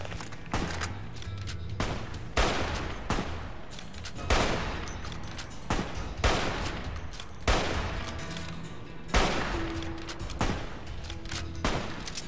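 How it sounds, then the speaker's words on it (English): Sniper rifle shots ring out in Fallout New Vegas, about a dozen loud, sharp cracks spaced a second or so apart, each with a short echoing tail. "Sniper rifle, here we go."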